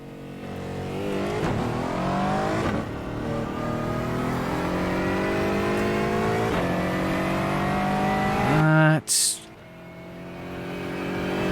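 An Aston Martin V8 race car in iRacing revs hard through several rising gear pulls, its engine note climbing and dropping, then cutting out abruptly near the end before resuming.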